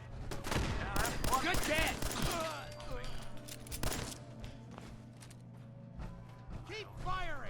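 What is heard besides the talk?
gunfire in the video game Fallout 4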